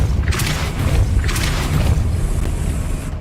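A Depulso spell cast in the Hogwarts Legacy video game, heard as a low rumbling boom with two bursts of airy whoosh over a steady, loud game backdrop.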